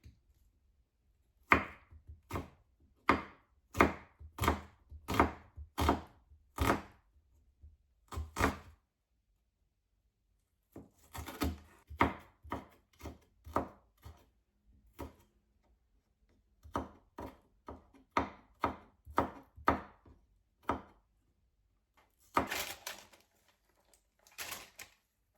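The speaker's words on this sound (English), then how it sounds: "And chop half of onion." Half an onion chopped with a knife on a cutting board, crisp rhythmic chops in quick bursts separated by pauses, close and clear with no talking.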